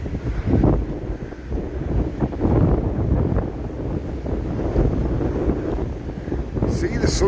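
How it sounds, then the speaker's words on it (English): Gale-force wind roars across the Blackpool seafront, buffeting the microphone with a constant loud rumbling gust that swells and dips, with possible surf beneath. "I don't even know if you can hear anything, to be honest. It's that windy."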